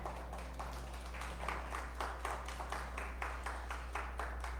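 A church congregation claps in a steady, rhythmic beat, faint and somewhat distant, with even repeated hand claps over a low hum.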